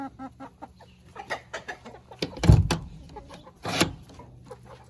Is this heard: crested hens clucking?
yes